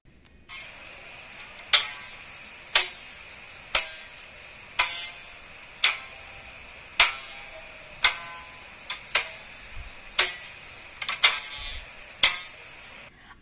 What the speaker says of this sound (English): The humming sound stops as soon as the rubber band stops vibrating.